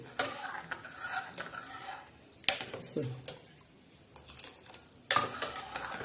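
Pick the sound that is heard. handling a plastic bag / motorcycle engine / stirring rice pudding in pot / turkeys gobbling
stirring rice pudding in pot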